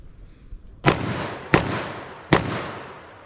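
Three loud .44 Magnum revolver shots firing Remington HTP ammunition, drawn from a holster, each a sharp close blast with a decaying echo, spaced under a second apart.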